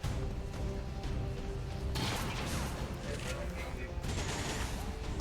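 A grenade detonates in the XCOM 2 tactical game, a sudden broad blast that roars out and decays over a couple of seconds, followed by a second burst, all against a steady bed of game noise.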